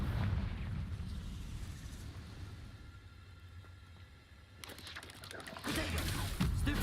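A fiery blasting-spell explosion in a video game: steady rumbling, broadband noise swells into loud crackling bursts toward the end, with game ambience throughout.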